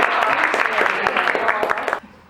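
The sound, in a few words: audience applause for speaker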